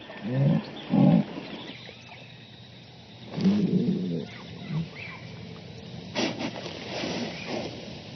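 A female jaguar in heat in the Amazon gives a couple of low, rasping grunts, then quieter scattered calls and faint bird-like chatter over a dim outdoor background.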